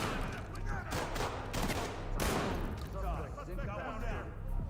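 Shotgun fire in a video game rattles as dense, continuous volleys of shots, with people talking over the gunfire throughout.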